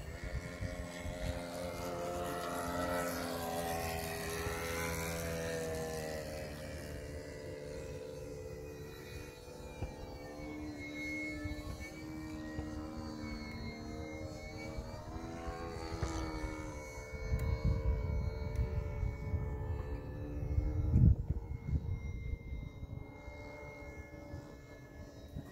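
An E-flite UMX Timber, a small electric RC airplane, buzzes overhead with a whining propeller whose pitch rises and falls as it passes, moderately distant, with a louder swell near the end.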